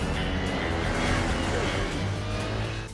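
A Vespa-like scooter engine from a film scene hums steadily and loudly throughout, a continuous motor drone with a faint voice underneath.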